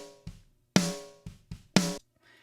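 Drum hits processed with slow-attack compression in a mix, several punchy strikes with sharp transients and ringing tonal decay, two louder hits standing out among softer ones, close and dry with no talk.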